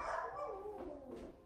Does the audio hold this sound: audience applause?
no